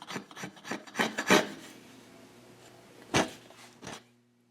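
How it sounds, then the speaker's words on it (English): A hand cutter scrapes repeatedly across hard inlay material in short strokes, a quick run of rasping cuts, a pause, then two more. "Then I angle the cutter to remove material more quickly."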